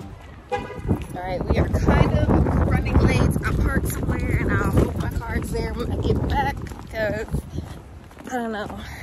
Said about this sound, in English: it's kind of windy